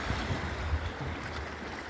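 Sea waves wash and roll in a continuous broad rush with low swells, blended with wind buffeting the microphone, at a steady moderate level and with no voices.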